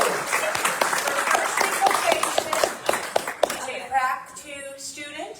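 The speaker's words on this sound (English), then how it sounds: "I want everyone to affirm right now with applause" Church congregation at a Sunday celebration service applauding, lively close clapping for about three seconds, then tapering off as a voice begins speaking.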